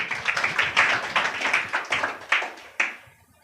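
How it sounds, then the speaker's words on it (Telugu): A church congregation at a Sunday prayer service claps loudly in a brisk, fairly regular rhythm, about a dozen sharp bursts that end with a final clap and fade out. "గట్టిగా చప్పట్లు కొడదామా?"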